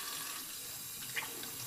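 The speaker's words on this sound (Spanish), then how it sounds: "Déjenme terminar de enjuagar aquí." Steady running water from a kitchen tap while something is rinsed at the sink, a continuous hissing splash with a small brief splatter, no talking.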